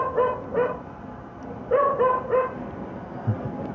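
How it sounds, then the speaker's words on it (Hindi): A dog barking in short bursts, a pair of yips and then a quicker run of three, fairly close and clear against faint background noise. "इस जगह आए हैं तो ये कुत्ते के भौंकने की आवाज़ कुछ ज़्यादा हो गई है"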